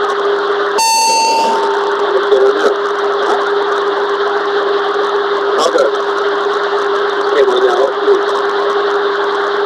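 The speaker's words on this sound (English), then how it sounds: "A fire alarm had sounded for the main deck cargo." Main deck cargo fire alarm in an airliner cockpit sounds as a brief loud tone near the start. A constant hum of the cockpit recording continues under it and afterwards.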